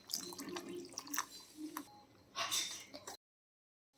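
A glass of water poured into a pot of dalcha, a lentil dish: a soft, close splashing trickle that swells briefly near the end before cutting off to silence.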